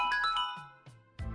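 A phone ringtone sound effect in an audio story plays a short melodic chime pattern of bright repeated tones, close and moderately loud, stopping and restarting, with no talking.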